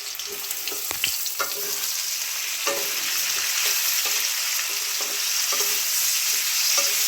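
Chopped tomato sizzles in a pan with onion, garlic and potato, a steady close frying hiss punctuated by repeated scraping stir strokes throughout.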